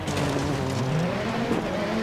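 A rally car slides off the road on a rain-soaked stage in DiRT 4, its engine revving in rising and falling tones while the tyres scrub loose ground. The sound is continuous and close, with no voice.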